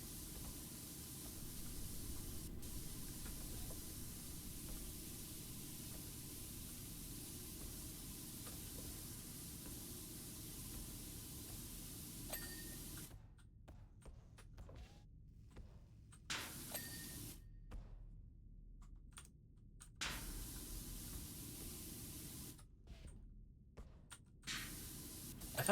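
Continuous hiss of a pressure washer spraying in PowerWash Simulator, steady for a long stretch and then cutting in and out in several bursts with short pauses, no talking.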